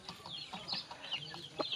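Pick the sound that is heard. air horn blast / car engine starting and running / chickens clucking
chickens clucking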